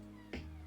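A pet cat entering a home office lets out one short, clear meow over a steady electrical hum, with no talking.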